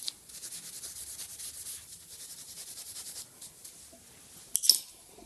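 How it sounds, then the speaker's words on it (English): A loose dry brush scrubs the dovetail of a Pro-Cut on-car brake lathe slide plate in quick, rhythmic back-and-forth bristle strokes, close and steady, ending in a sharper scrape. "Give it a go again with our loose dry brush"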